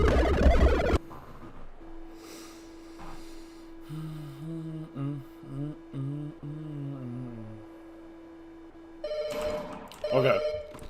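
A telephone rings in the video game From the Rain, a steady electronic ringing tone with warbling repeated pulses, fairly clear, with a brief voice and noise at the start and end.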